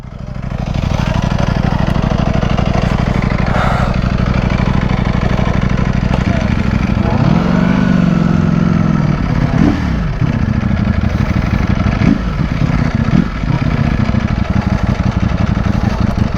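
A Ducati Panigale V4R superbike with stock exhaust runs loud and close, holding a steady idle before a few throttle blips swell and fade.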